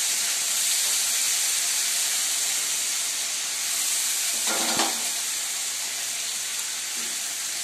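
Fish frying with spices in a pan over low-medium heat, a steady loud sizzle and hiss throughout with a brief clatter of handling near the middle.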